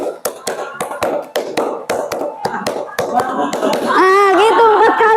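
A class claps out a rhythmic pattern in a classroom, with sharp hand claps in short grouped bursts. Children's voices then rise into chanting or singing over the last seconds.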